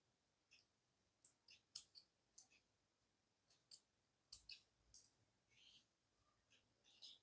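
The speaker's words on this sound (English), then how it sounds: "Let me first cut this thread off." Scissors snipping beading thread for a pearl necklace, a scattered series of short, quiet crisp clicks and snips heard alone at close range.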